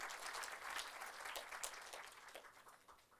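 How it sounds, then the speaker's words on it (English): Audience applause at a PGDM induction program, a steady wash of clapping from many hands that holds fairly even for about three seconds and tapers slightly at the end, heard at a modest distance. "I think a big round of applause for yourself because you deserve it now."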